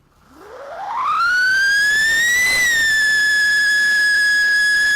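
Whistling firecracker shrieking upward in pitch as it launches, then holding a loud, steady, piercing whistle for several seconds.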